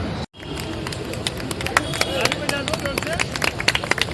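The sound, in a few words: clapping crowd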